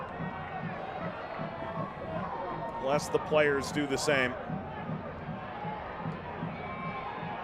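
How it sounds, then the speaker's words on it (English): Stadium crowd at a Louisville City FC versus Detroit City FC football match, a steady distant murmur with a brief swell of shouts, under continuous commentary. "Crowds become impatient."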